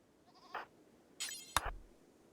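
Goats in the colony-building game Banished bleat in a few short, bright cries, two close together near the end, over a quiet background with no talk.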